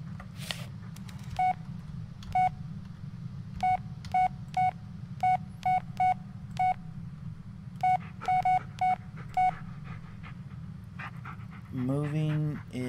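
Phone dialing in the Blair Witch video game: a string of short, evenly pitched keypad tones tapped out in irregular bursts over a steady low hum, ending in a brief rising electronic chirp.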